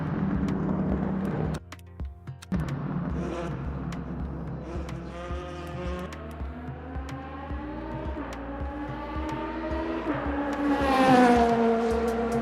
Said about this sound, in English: Engine sounds quite nice.